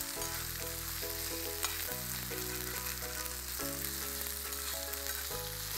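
Onions and quail meat sautéing in a kadai, a steady close sizzle and fry with faint stirring throughout, no voices.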